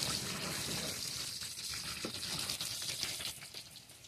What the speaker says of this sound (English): Now, I'm gonna just rinse this butterfly off